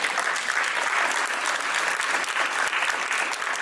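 An audience at a mayoral candidates forum applauds steadily, a dense wash of close clapping that stays even for several seconds.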